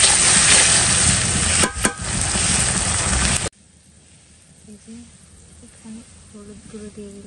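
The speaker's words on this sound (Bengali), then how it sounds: "এটাকে একটু ভেজে নেবে, হচ্ছে আদা রসুনের কাঁচা ছাঁচটা চলে যাবে।" Ginger-garlic spice paste frying in a pan, a loud steady sizzle for about three and a half seconds that cuts off abruptly, leaving faint quiet kitchen noise afterward.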